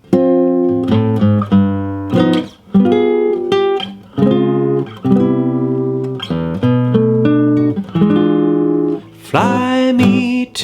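Solo jazz guitar plays a chord-melody line from a song: ringing plucked chords with a melody on top, moving in phrases with short gaps between them, clear and close.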